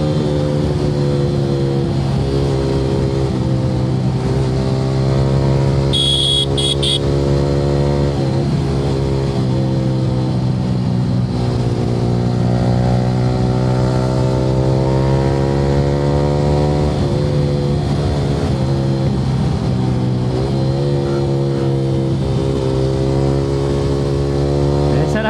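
A Yamaha R15 V3 motorcycle fitted with an Akrapovic R9 exhaust, held near maximum RPM while riding on a road, gives a loud, steady high-revving engine drone with gently rising and falling pitch throughout.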